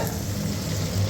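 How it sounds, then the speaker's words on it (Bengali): Onions fry in a pan with a soft, steady sizzle and a faint stirring scrape, brief and continuous, without speech. "এখন পেঁয়াজ কষছে"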